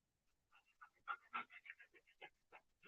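A dog whining and panting with rapid, uneven whimpering and short breathy yelps, faint and close, with no talk.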